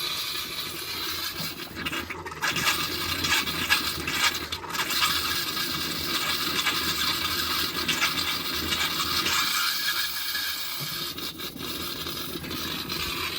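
A travel trailer toilet flushes with a steady rushing, gurgling water sound that continues throughout, fairly quiet, with occasional clanks and scrapes.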